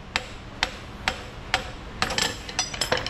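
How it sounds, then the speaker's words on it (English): Pry hammer striking a Cadillac's suspension strut during repair of collision damage, with four separate sharp metallic blows followed by a quicker burst of several close hits, loud and near in a quiet workshop. "pry hammer."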